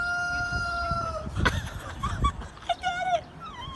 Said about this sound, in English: There are chickens coming out. Oh my god. Oh, okay. So they are fighting.